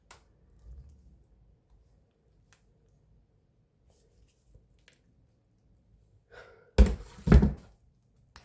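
A pine tar soap mold is banged on a hard surface, giving two loud close thumps near the end after near silence and a few faint taps.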